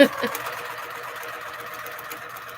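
A sewing machine stitches flying geese quilt pieces, giving a steady close mechanical whir that runs through the whole stretch, with a voice faintly over it.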